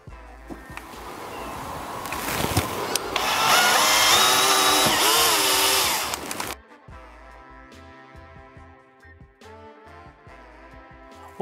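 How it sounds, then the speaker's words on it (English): Power drill boring small pilot holes during subwoofer replacement work on a Lexus SC430: a loud, sustained whirring bore for a few seconds that rises in intensity, then cuts off into quieter tool handling and background noise. "I'm going to drill little pilot holes through with the drill"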